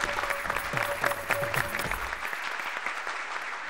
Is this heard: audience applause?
yes